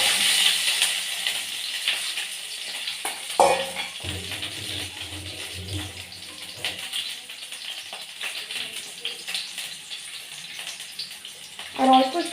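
Hard-boiled eggs frying one by one in hot oil in a pan, a steady hiss of sizzling under soft stirring and clinks of utensils, with a louder spatter burst partway through and again near the end.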